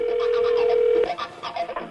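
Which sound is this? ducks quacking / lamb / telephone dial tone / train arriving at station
telephone dial tone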